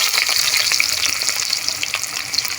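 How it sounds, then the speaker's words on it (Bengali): Onion dropped into hot oil in a wok gives a loud, dense, continuous sizzle and spitting crackle, close up and unbroken for the whole moment, with no voices. "কড়াইতে তেল দিয়ে দিছি এখন দিয়ে দেবো পেঁয়াজ"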